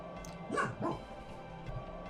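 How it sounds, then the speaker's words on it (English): A pet dog gives a few short barks and yips off in the background of a room, faint and brief, clustered in the first second with nobody talking. "hopefully my dog barking wasn't too loud"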